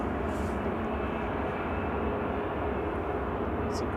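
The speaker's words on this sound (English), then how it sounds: "Ryanair taxiing pass." Ryanair airliner taxiing past at Manchester Airport, a steady low engine rumble and whine held at a constant level, moderately distant, with faint murmuring nearby.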